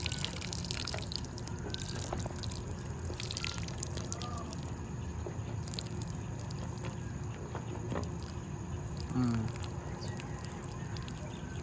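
Water runs and trickles out of a newly installed house pipe in a steady, close splashing wash, with a few faint knocks and scattered background noise over it.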